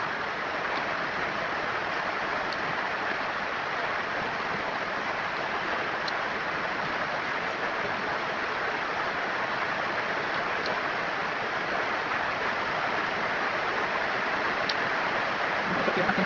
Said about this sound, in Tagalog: Maingay yung video natin sa ulan.